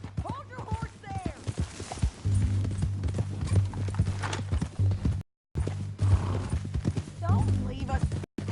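Horse hooves in Red Dead Redemption 2, a steady clip-clop of a horse moving at a walk, with an occasional whinny and voices talking over it.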